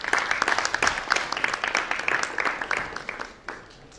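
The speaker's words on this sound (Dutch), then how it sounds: "geef alsjeblieft een warm applaus voor Harmen van Wijnen" Audience applause welcoming a pension fund chairman onto a university stage, dense clapping from a crowd held steady for a few seconds before thinning and fading out.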